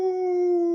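A person imitates a wolf's howl with a short, steady, sustained tone, close and fairly loud, without talk or other noise.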